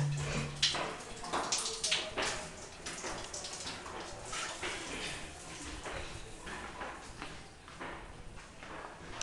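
A tap runs weakly, giving a faint, steady hiss of water that continues throughout with small clinks and bumps in the background.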